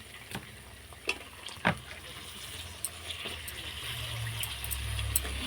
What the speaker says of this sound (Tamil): நம்ம கட் பண்ணி வச்சுருக்க கத்திரிக்காயும் இதில் சேர்த்து நம்ம வதக்கிக்கலாம்